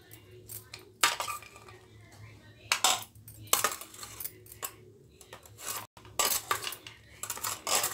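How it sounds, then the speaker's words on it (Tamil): Crispy corn fry is served onto a plate, with repeated clinks and scrapes of a metal spoon against the dish and pan in irregular bursts, close by, over a faint low hum. "இப்போ நம்ம ஒரு பிளேட்டுக்கு சர்வ் பண்ணிடலாம்."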